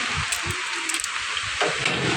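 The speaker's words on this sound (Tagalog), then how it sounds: "grabe yung ulan" Heavy rain pours steadily and loudly in a dense hiss, close and continuous, with a few faint low thumps underneath.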